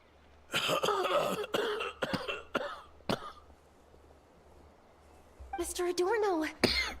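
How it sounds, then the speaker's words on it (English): An old man character in the video game Genshin Impact coughs in several sharp, rough bursts, with game dialogue voices heard around the coughing. "And I'm coughing too."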